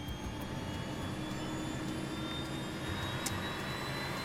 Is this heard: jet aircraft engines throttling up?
yes